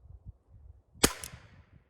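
A single sharp crack from a Safari Flobert rifle at an outdoor range, loud and close, with a short ringing tail over a quiet, low background.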